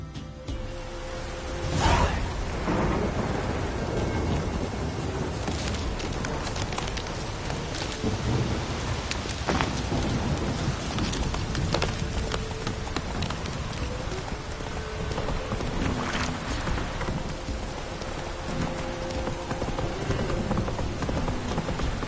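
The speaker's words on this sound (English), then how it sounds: "This downpour's a bastard, it is." Steady heavy rain pours throughout in The Witcher 3 video game, with a loud thunderclap early on and a few softer rumbles and cracks later.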